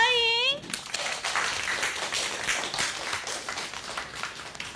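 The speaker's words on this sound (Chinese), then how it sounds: "大家掌声欢迎。" A classroom of students applauds to welcome a new transfer student. Scattered, fairly close clapping runs steadily for several seconds after a short opening tone.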